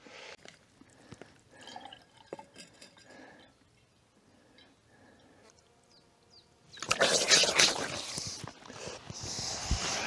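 Water being drunk and a bottle refilled at a spring during a ridge hike between Tolminski Kuk and Vogel in Slovenia: soft clinks and drips at first, then a loud, steady rush of pouring water that lasts to the end.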